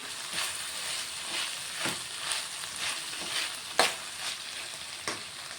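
Tomatoes fry and sizzle in a curry pan while being stirred, a soft steady hiss with periodic scraping strokes and one sharper clack, no talking.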